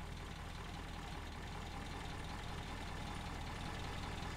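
A Citroen DS engine idles without raised revs, giving a steady, even, fairly faint mechanical rumble with no talk over it.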